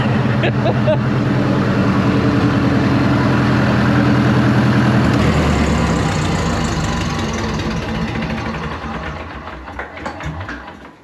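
An International TD-9 bulldozer's diesel engine runs with a loud, deep, rumbling drone that holds steady for several seconds, then shifts and gradually fades toward the end.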